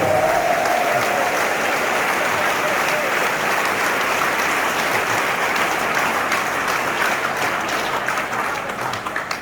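A large audience at a political meeting in Guadeloupe applauds loudly and steadily, with dense sustained clapping that fills the whole stretch and thins only slightly at the very end.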